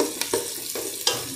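Chopped onion hitting a hot pan gives a steady moderate sizzle, with a few sharp clinks and scrapes from stirring.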